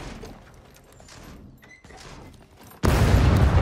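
Grenades going off in the survival shooter SCUM: muffled thuds and clatter give way to a sudden loud, sustained roaring blast near the end.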